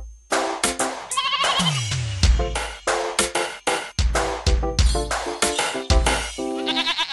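Cartoon sheep bleat in a nursery-rhyme setting, with a series of bright, wavering bleats repeated in quick, uneven bursts, loud and close, alone without talk.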